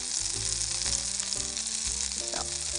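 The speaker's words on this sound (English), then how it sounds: "now we're going to put it in a hot skillet. Hot butter in a pan." Butter sizzling and frying in a hot cast iron skillet at steady volume throughout, close up, with faint scraping or stirring underneath and no talking.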